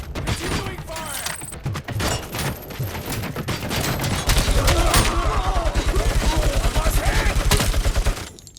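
Rapid gunfire from the video game RoboCop: Rogue City, with bursts and a sustained rattling fusillade that grows louder and more continuous in the second half, mixed with mechanical clanks and brief game voice lines.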